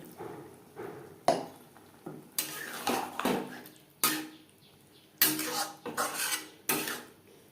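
Capsicum curry being stirred in a pan over medium flame, with a spoon knocking and scraping against the metal in a series of sharp, irregular clacks, and a soft background hiss between them.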